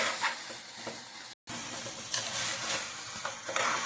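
Chicken pieces with turmeric being stirred in hot oil, a steady close sizzle with scraping stir strokes and a brief gap partway through.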